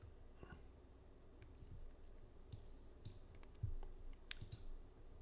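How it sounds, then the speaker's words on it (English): Faint, sparse computer mouse clicks at a desk, a scattered handful of light, short ticks spread unevenly across a quiet room background with no talking. "So we're going to click edit."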